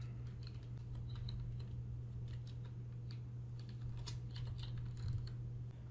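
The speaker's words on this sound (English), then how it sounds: "now I type Be Your Noise" Steady keyboard typing on a computer while a text caption is entered in Adobe Photoshop, with quick irregular key clicks close by over a constant low electrical hum and no talking.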